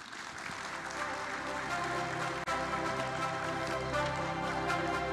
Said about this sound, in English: Ladies and gentlemen, please give them a big applause.